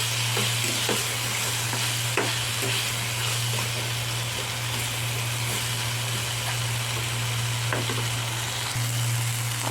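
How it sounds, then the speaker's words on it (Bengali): Diced potatoes with slit green chillies fry in a pan, a steady close sizzle running throughout, dotted with small pops and occasional stirring scrapes over a low constant hum. "আলুটা আমার ভাজা ভাজা হয়ে এসছে"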